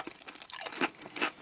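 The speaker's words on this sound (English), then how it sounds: "I do like the crunch of the Stax." Lay's Stax Mesquite Barbecue potato crisps crunch loudly at close range in a few sharp bites and chews, with no talking.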